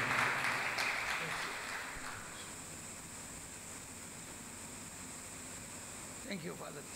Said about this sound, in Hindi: ताली बजा के उनको स्वागत